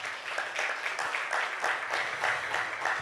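A church congregation applauds together, a dense, even wash of clapping sustained for several seconds with a few faint voices underneath.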